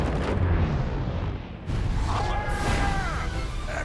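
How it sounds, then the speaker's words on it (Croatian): A cartoon Angry Birds character blows up in a loud, broad roaring blast with a rumbling tail. It dips briefly, then a second burst follows, trailed by thin whistling tones. "Eksplodirao sam namjerno!"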